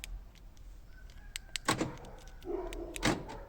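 Central locking actuating on a 2007 VW Jetta, with sharp mechanical clunks from the lock actuators and a brief whirring motor sound, close and loud in a quiet car.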